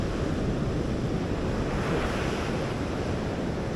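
Ocean waves breaking on a beach in Brazil after sunset, a steady, loud wash of surf with wind rumbling across the microphone and no voices.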